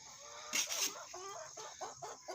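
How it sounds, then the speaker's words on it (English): Soft, quiet clucks from a rooster in a coop come as a few short, scattered calls close by, with nothing else around them. "I like hearing roosters crow every morning."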